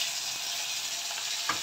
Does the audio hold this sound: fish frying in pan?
yes